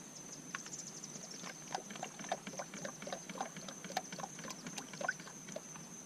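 Motor oil glugs and trickles from a bottle into the engine of a 2004 Ford F350 6.0 diesel, a faint, close stream of irregular gurgles and splashes under a steady high whine.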